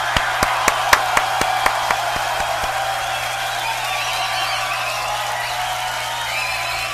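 A crowd at the GBB19 beatbox battle cheers for Colaps, opening with a run of loud, evenly spaced claps over steady crowd noise, then settling into a continuous roar of cheering.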